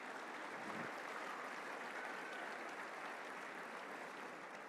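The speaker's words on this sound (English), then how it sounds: "But I want to give a special round of applause to Lane Hatcher and Greg Hatcher." A banquet crowd at a touchdown club luncheon applauds, a steady, even wash of clapping that holds at moderate level throughout without pause.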